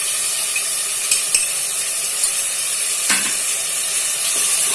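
Onion and tomato paste sautéing in a pan for goat head curry, a steady close sizzle with a few light scrapes of stirring and no talk.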